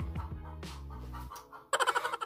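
Chickens cluck outdoors, loud close bursts of clucking with a short rhythmic run of calls near the end, heard from a room while other household noise sits underneath.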